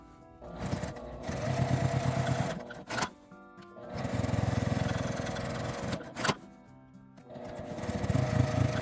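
A sewing machine stitches makeup bag fabric in three close bursts of rapid whirring, each a few seconds long and separated by brief pauses with small clicks.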